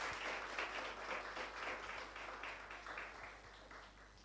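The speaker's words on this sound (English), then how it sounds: "Please give them a very big round of applause." Steady applause from an audience at a school investiture ceremony, many hands clapping at once in a dense, continuous wash that holds for several seconds without voices.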